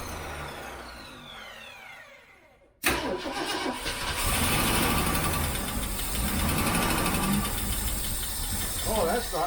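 A 1967 Ford Mustang with a 390 engine cranks briefly after near silence, then catches and runs steadily at a loud, rough idle that fills the rest of the clip, close by in a garage setting.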